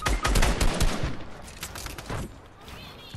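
Rapid bursts of automatic gunfire in the Fortnite video game, several loud close shots in the first second or so, then fainter scattered shots trailing off.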